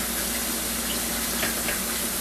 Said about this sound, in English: I'm going to just run them through some water, wash them up